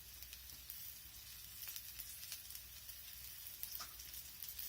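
Onions softening in hot oil in a pan, a faint, steady, even sizzle with light crackling pops running throughout, heard alone with no voices.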